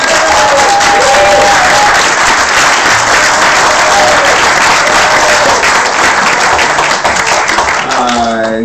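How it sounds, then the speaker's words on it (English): An audience claps for contestant number 1 at a contest, a loud, dense, sustained wash of applause with cheering voices mixed in, tapering slightly toward the end. "can I hear a clap for contestant number 1?"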